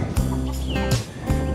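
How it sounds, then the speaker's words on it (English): Chickens clucking in a coop in the morning, several close, loud birds giving short repeated clucks and calls with no talking. "Going down here to let the chickens out"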